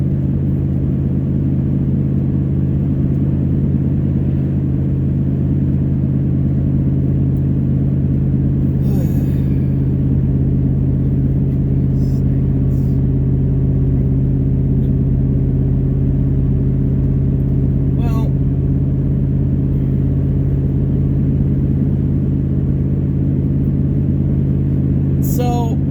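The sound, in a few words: pickup truck engine while driving and towing a trailer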